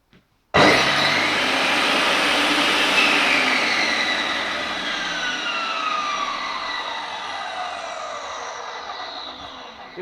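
A JCB TCI-650-250 tile saw switches on with a sudden onset and then runs with a loud, sustained whirring whine that slowly eases in level.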